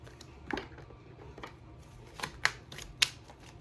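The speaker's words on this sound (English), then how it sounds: "I am shuffling upside down." Tarot cards being shuffled by hand, a few soft riffling bursts and card taps spaced out over quiet room tone, close and fairly faint, with no talking.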